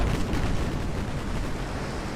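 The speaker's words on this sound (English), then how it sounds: "Huge salvos for both ships." Heavy warship gun salvos roar in Ultimate Admiral Dreadnoughts naval combat, a dense continuous rumble of big-gun fire and booming blasts with no pauses, loud and close.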